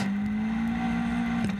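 Onboard a Caterham race car with no aero braking for a hairpin at Portimão, the engine tone holding steady and loud then dropping sharply near the end as the revs fall.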